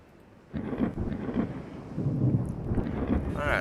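Thunderstorm at sea in the naval warship game Ultimate Admiral Dreadnoughts: a low rolling thunder rumble with rain and wind noise starts abruptly and keeps building, steady and fairly loud, with no one talking over it.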